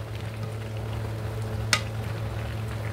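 Pinakbet gets stirred in a pan outdoors over a steady low hum and gentle simmering sizzle, with one sharp scrape of the spoon partway through.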